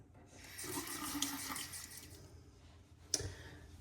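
Water splashing and running as a face is rinsed after a wet shave, a steady close washing sound lasting a few seconds, ending with a brief sharp splash or clunk near the end.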